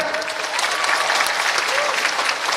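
An audience of university students applauds a presidential candidate at a campus Q&A in Kupang, with steady clapping that holds through the whole span at close range.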